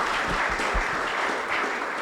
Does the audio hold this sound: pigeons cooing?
no